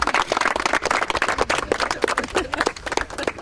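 Applause from an audience at an outdoor harvest festival after a biochar burning demonstration, a steady patter of many hands clapping with a few sharp, louder claps scattered through it.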